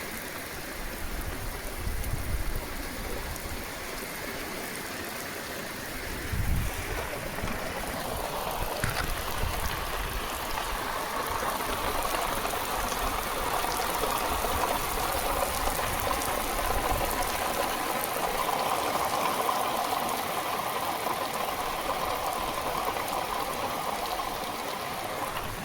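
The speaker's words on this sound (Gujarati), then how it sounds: "હવે આવ્યો બરોબર વરસાદ." Heavy monsoon rain pours steadily off roof eaves, a dense continuous rushing and splashing that stays loud and even throughout with no pauses.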